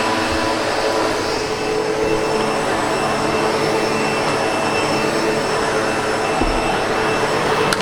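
A SEBO Automatic X7 Boost ePower upright vacuum cleaner runs indoors during a whole-house clean, a loud, steady motor whine and airflow roar held close and unbroken throughout, with no voices.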